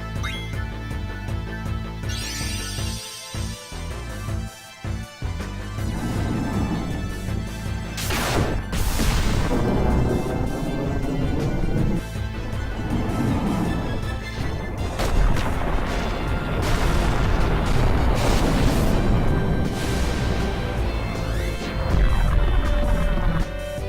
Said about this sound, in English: Next up, we are going to summon Ifrit, who, as the name might suggest to anyone who is aware of mythology, does fire damage to all opponents.